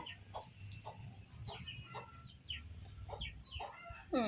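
Chicks and hens cluck repeatedly in short bursts over a low, steady background rumble, with a sharper squawk right at the end.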